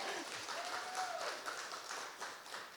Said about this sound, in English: give yourself a fucking round of applause